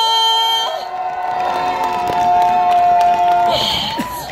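An outdoor crowd at a walking-festival event cheers and shouts over steady clapping, a loud, sustained roar with tonal music or voices held underneath, swelling again near the end.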